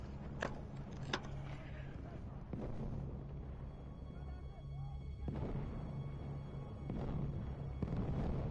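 Explosions in the video game Battlefield 1 come as several sharp booming blasts at irregular intervals over a low rumbling battlefield bed, fairly quiet overall, with a voice speaking briefly.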